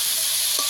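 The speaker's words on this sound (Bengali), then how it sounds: "আলু আর মশলা আবারও একটু কষিয়ে নেব," Fried potatoes being stir-fried with spices in a pan for a Bengali fish curry, a steady close sizzle with a brief stir scrape near the end.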